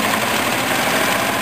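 A small petrol OHV engine, either a 14 hp Briggs V-twin or a 13 hp Honda, runs at a steady idle, producing a loud, continuous close-up mechanical drone with no break.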